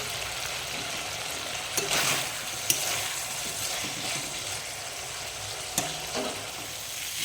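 Tomato and spices sautéing in a pan for a snakehead fish curry with drumsticks and potatoes, giving a dense, continuous close sizzle with occasional sharp clicks of a spatula scraping through, no voices.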